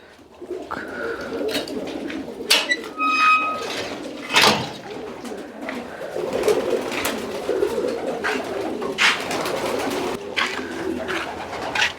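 Pigeons coo in soft, repeated throaty calls, with wing flutters and scattered clatter close by.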